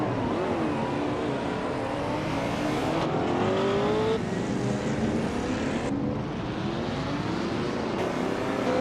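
A 1969 Ferrari 365 GTB Daytona race car engine roars steadily in a racing game, loud and close, its pitch climbing and dropping with several sharp gear changes as it accelerates.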